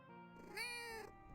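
A pet cat named Kiro gives a single drawn-out meow, rising and falling over about a second, close and clear against a quiet room hum with no talking.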